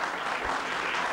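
Studio audience applause on a Swedish television talk show, a steady, dense clapping that fills the short moment on its own with no talk over it.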